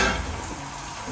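Eggplant pieces fry in hot oil in a pan for kara kulambu, a close, continuous sizzle with occasional stirring and no talk.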